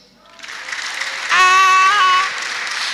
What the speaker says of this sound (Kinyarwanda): Ako mwamukomeye amashyi